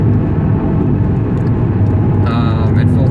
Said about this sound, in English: So quick downshift to 5th.